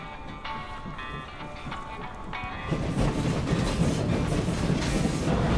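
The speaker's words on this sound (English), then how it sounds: "A train." Train wheels roll over rails in the video game Evil West, a steady rumble with rhythmic clicking that grows louder and denser partway through, heard alone without talk.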